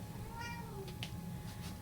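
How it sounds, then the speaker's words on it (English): A pet cat named Tiger meowing in the background of a quiet room, one drawn-out meow followed by a couple of shorter faint calls. "if you can hear a pusscat in the background"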